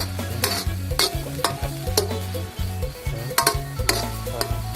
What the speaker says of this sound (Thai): นี่เราจะคั่วไปก่อน